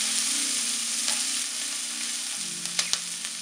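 Chopped onion and curry leaves sautéing in a pan for a potato curry, a dense continuous sizzle close by with a low hum underneath and a couple of brief clatters near the end.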